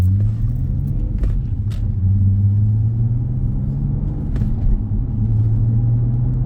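Car exhaust fitted with J pipes to cure drone, a steady low boomy rumble from the cabin at a fairly constant engine speed, loud and continuous with no talk.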